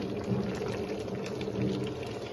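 Rice boils in a pot on a home stove, a steady, soft bubbling and gurgling that runs continuously without a break, fairly faint and alone.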